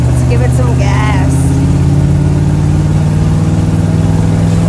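A 1936 Ford Deluxe engine runs with a steady low drone as gas is applied, its rumble holding loud and even throughout, with a voice briefly audible early on.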